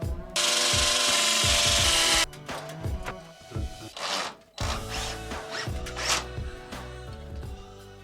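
A power drill whines steadily for about two seconds drilling into a wall, followed by scattered knocks, scraping and clattering of tools against a hard surface.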